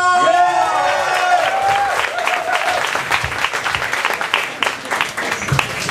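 Comedy club crowd at a stand-up show applauding and cheering a comedian, with dense clapping and whoops throughout and a voice shouting over the start as the applause thins toward the end.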